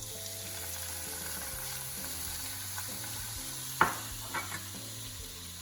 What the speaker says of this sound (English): as your oil heats, we're gonna start by adding your onions first.